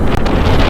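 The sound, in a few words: strong wind blowing into microphone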